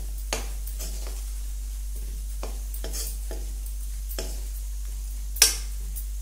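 A spoon stirs dried coconut powder into a cooking pan of guggillu. Repeated scraping strokes sound against the pan, with one sharp metallic clink near the end and a low steady hum underneath. No one talks.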